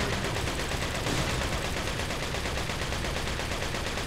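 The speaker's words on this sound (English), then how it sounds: "He missed all them shots!" Enemy gunfire in the Resident Evil 4 video game: a dense, continuous barrage of rapid shots, loud and steady for several seconds, with no talk over it.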